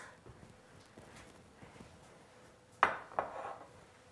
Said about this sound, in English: take one more moment to spoon off those last little foamy bits